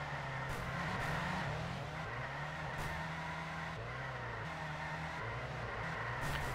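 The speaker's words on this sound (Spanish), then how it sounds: "el coche va más despacio en boxes." Race car engine drone from the 2D video game Ultimate Racing 2D, a steady layered whine with shifting pitch as the car slows in the pit lane, joined by brief tire squeals, continuous and fairly loud with no talking.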